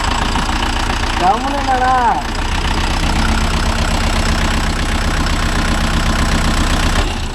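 A Mahindra Yuvo Tech Plus 585 4WD tractor's diesel engine idles and chugs steadily close by while reversing, with a brief voice heard over the running engine.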